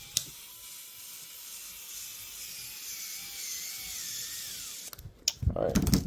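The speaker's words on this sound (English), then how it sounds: "Yeah, I got an electric screwdriver, which is very handy." A handheld electric screwdriver whirs steadily while assembling a craft hand, a thin motor whine under room noise that ends in a burst of louder clattering handling sounds.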